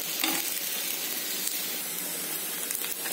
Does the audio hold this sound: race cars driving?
no